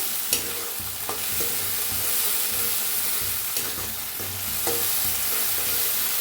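Masala spices roast in a pan for sambar, giving a continuous dry sizzle broken by occasional scraping and tapping from stirring, steady and close with no talking.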